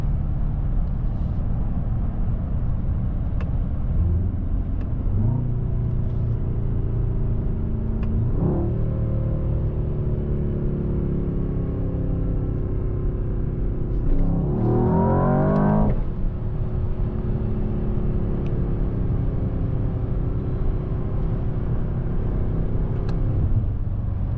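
A 2025 Mercedes-AMG S63 E Performance sedan's engine roars as it accelerates hard in one gear, the pitch sweeping upward in long pulls over a constant low rumble of road and wind noise.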